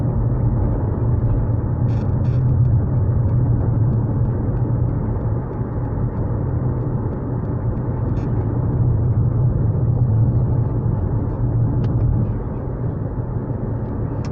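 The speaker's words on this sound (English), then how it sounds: "let's do a little bit of highway driving here as well" Steady low road rumble and tire roar inside a Mitsubishi Outlander PHEV cruising on the highway, continuous and even throughout with no talking.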